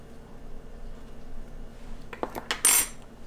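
A small spoon clinks against a glass while stirring egg nog made with rum, giving a few quick, close metallic taps over quiet room hum.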